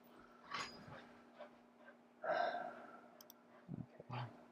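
Dogs panting and snuffling indoors, with soft breathy bursts and a few snorts coming and going at low volume over a steady faint hum.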